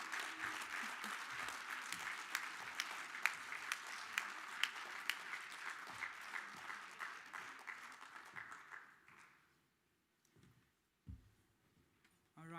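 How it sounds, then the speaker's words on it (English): Audience at the National Batho Pele Excellence Awards gives a long, steady round of applause with sharp individual claps, fading out near the end into quiet room noise and a few faint sounds. "Let's hear a huge round of applause"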